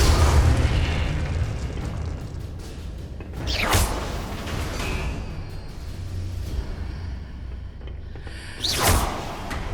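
Spell explosions and whooshing casts from the video game Hogwarts Legacy, with a loud booming burst near the start, another around four seconds and a sharp blast near the end over continuous rumbling game action.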